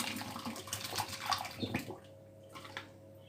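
Red plum compote liquid poured through a strainer, a loud splashing gush for about two seconds that tapers into faint trickles and drips.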